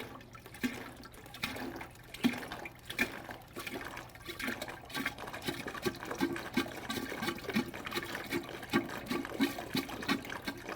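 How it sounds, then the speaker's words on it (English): Water is pumped out of an indoor plant saucer in a quiet series of soft gurgles and sucking splashes, repeating unevenly and close by. "is pump that water out of the saucer."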